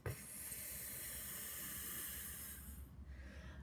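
A voice imitates a lawn sprinkler's steady whispering sound with a continuous breathy hiss, quiet and close, lasting about three seconds before stopping.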